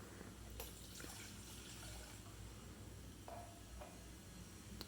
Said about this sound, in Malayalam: 2 ഗ്ലാസ് വെള്ളം ഒഴിക്കണം.